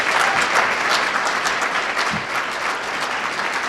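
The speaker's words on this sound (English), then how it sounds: "A round of applause for Cheryl Schaffman" Crowd applause at a black tie gala, a thick, steady clatter of many hands clapping for an honoree, loud and continuous and easing slightly toward the end, with no speech over it.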